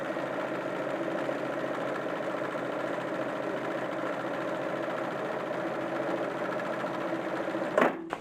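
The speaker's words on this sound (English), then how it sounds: "we're going to sew them together just as before, but we're not going to sew the ends in the circle yet" A sewing machine stitches skirt panels together for a mid-19th-century style hem, a steady, continuous mechanical whir running at one even speed up close, ending with a brief clunk as it stops.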